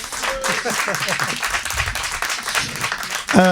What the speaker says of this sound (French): On peut les applaudir, merci à vous.